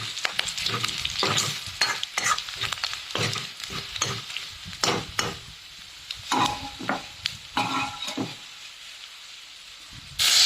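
Cumin and coriander powder frying in a pan, a steady close sizzle broken by repeated scraping stirs in an irregular rhythm, with no talking.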